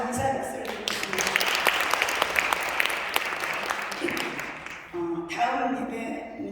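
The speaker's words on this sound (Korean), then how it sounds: "귀한 말씀 해주신 우리 강사 목사님도 감사의 박수를 드리겠습니다" A church congregation at a revival meeting held at a fasting prayer retreat bursts into loud, dense applause for a guest preacher, lasting about four seconds, with a speaking voice just before and after it.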